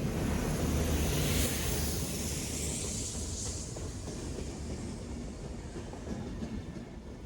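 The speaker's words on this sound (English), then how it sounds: "MBTA has two active wash trains, one set for the north side and another for the south side." An MBTA commuter rail wash train rolls past with a loud, continuous rumble and rushing hiss, faint rhythmic clacks of wheels on track running underneath throughout.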